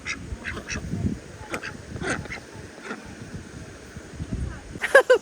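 Ducks quack in short nearby bursts outdoors on a road trip near a waterfall. A louder cluster of quacks comes at the end, and people talk in the background.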